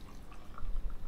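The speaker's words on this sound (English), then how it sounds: "Let's pour a few more of these over here" Hazy beer poured into small sample glasses: a faint, soft trickle and drip of liquid that swells slightly toward the end over a low background rumble, with no talking.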